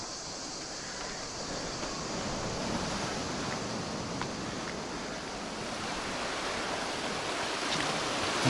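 Steady wash of Black Sea surf breaking against a stony shore at Semidvorie near Alushta, Crimea, a continuous broad rushing roar with no voices, building slightly toward the end.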